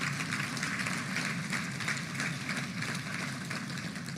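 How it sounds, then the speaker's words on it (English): Dense, continuous applause from a large audience at a Little Rock Touchdown Club event, honoring the volunteers. It holds steady and fairly loud throughout, with no pauses or voices on top. "Let's give all the volunteers a big round of applause."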